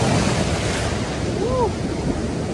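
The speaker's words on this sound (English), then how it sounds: "The waves are so strong." Strong ocean waves surge onto a Gulf beach at Santa Rosa Beach, Florida, as a steady, loud wash of surf mixed with gusting wind noise across the whole moment, without any talking.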